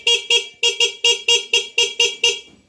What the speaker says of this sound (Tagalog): Naka-on, busina. Basic, diba? Oh, lakas.